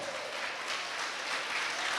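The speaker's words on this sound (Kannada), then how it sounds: "ಯೇಸುವೇ ಸ್ತೋತ್ರ ಎಂಬುದಾಗಿ ಚಪ್ಪಾಳೆ ತಟ್ಟಿ ದೇವರ ನಾಮವನ್ನು ಘನಪಡಿಸುವಂಥವರಾಗ." A church congregation claps together in a steady, dense patter, moderately loud and continuous, with no voices standing out.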